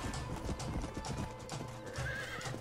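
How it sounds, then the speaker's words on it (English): Horse galloping in the video game Red Dead Redemption, rapid continuous clip-clop of hooves with a brief whinny, moderately close and steady throughout. "This way, you dumb horse."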